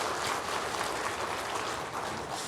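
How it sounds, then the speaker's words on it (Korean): A Korean church congregation claps during a Sunday worship service to welcome a newly registered member. The applause is dense and steady, filling the room for a few seconds with no talk over it. "우리 박수로 환영하도록 하겠습니다"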